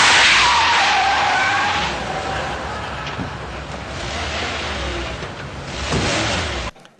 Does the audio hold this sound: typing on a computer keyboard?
no